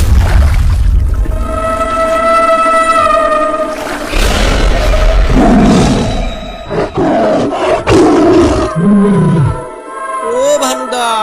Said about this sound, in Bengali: ও তো বাঘ।